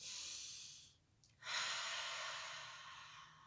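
During a gentle stretching exercise, a person draws a deep, airy breath in as an arm rises, a soft steady inhalation close to the mic that pauses briefly and then resumes, heard alone with no talking.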